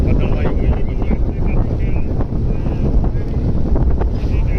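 Wind buffets the microphone on a moving tractor in cool weather after rain, giving a constant loud rushing roar. Voices talk underneath it.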